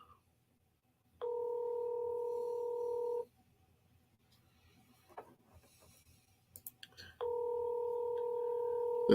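Telephone ringback tone heard on an outgoing call: two long, steady, loud buzzing rings about six seconds apart, separated by quiet line noise and faint clicks, with no talking.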